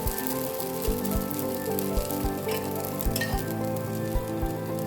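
Red rice dosa batter sizzling on a hot pan, a continuous close frying hiss with light crackle and a few soft clinks, with no voices.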